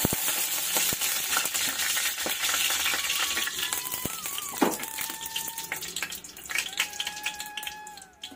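Three spoons of oil go into a pan for gongura roti pickle, giving a continuous sizzling hiss with faint metallic rings and clinks of utensils, close and fairly loud with no talking.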